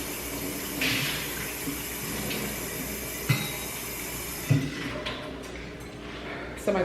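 Tap water runs steadily into a glass as it is rinsed out at a sink, a broad splashing hiss with a few clinks and knocks, then it thins to quieter handling sounds.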